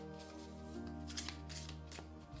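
An oracle card deck handled by hand, with quick papery riffles and soft card flicks over a steady low hum, close and fairly quiet.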